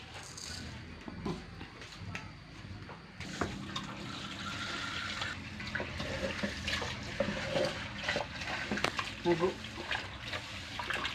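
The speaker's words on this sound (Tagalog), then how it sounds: "Hugasan po natin ang bigas." Water running from a tap while rice is washed in a pot for sinigang, a steady splashing rush with irregular sloshes and clatter over about eleven seconds, with someone talking underneath.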